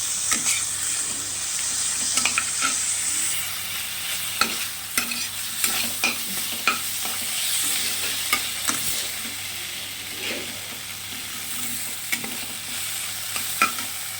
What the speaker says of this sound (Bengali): এবার দেবো আর ভাজা আলুগুলো দিয়ে একটু নাড়তে থাকবো 2-4 মিনিট।